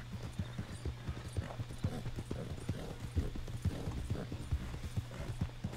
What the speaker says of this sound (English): There goes my horse in front of me.